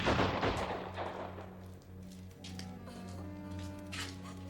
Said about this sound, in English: Ready, arms! Take aim! Fire!